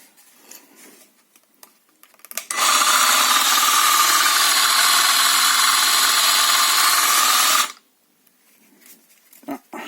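A steady, loud abrasive grinding whir from a belt sander attachment on an angle grinder runs for about five seconds, then cuts off, leaving quiet room noise before and after.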